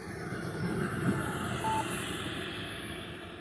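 An RC turbine jet model MB339 coming in to land, a steady whining turbine rush heard from a moderate distance, holding fairly even in loudness throughout with no talking.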